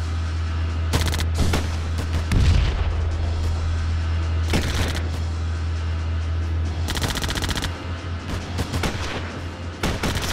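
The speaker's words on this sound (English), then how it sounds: "the squad near the Panzer 1 and the Stug, those guys are firing" Gunfire from tanks and infantry in the World War II strategy game Theatre of War, with bursts of machine-gun fire and sharp shots cracking over a steady low engine rumble, heavy booms around the middle and a long rattling volley later.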